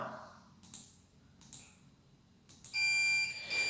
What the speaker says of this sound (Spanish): Se activa la alarma